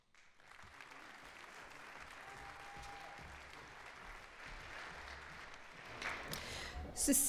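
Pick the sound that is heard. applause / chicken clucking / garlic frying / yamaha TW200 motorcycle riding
applause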